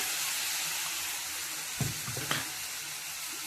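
Tomato paste hits hot oil in a pan, where fish was fried earlier, giving a steady close sizzle with a couple of brief stirring clatters and no talk.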